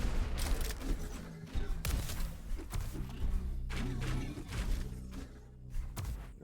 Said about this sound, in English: You can see he's pre-rocketing some corners